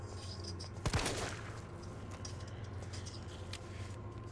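Gunfire in Resident Evil 3 Remake: a single loud, sharp shot near the start followed by a faint echoing tail, then a quieter ambient hum with a small click later.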